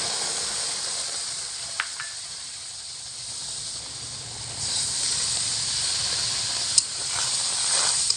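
Milk poured into hot fried semolina (suji) gives a continuous hiss of steam that swells louder partway through, with a couple of faint clinks along the way.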